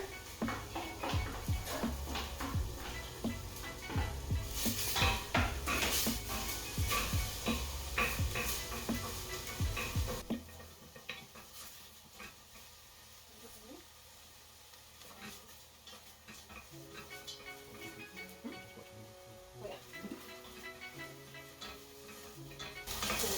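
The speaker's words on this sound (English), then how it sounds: "I'm just going to put my onion straight in, and I'm going to stir it around" Onions for carrot and coriander soup sizzle loudly in hot oil while being stirred around the pan with scraping, clattering strokes, then the hiss drops to a quieter bubbling fry with occasional utensil taps.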